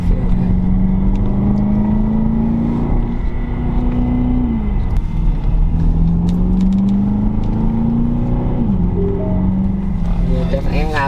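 A 2021 Aston Martin DBX ultra-luxury SUV pulls smoothly through its gears on the street, its engine rising in pitch, dropping at each shift and climbing again, loud and close from inside the cabin as people talk over it.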